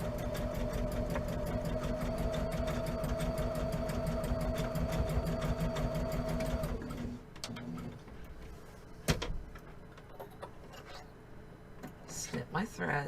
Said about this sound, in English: So I am going to backstitch at the beginning and then just sew over the seam.